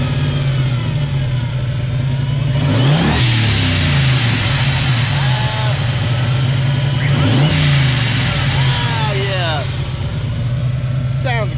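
A turbocharged Fox-body Mustang engine rumbles loudly from close by and revs up twice with rising whine and whooshing turbo sounds, while people talk over it.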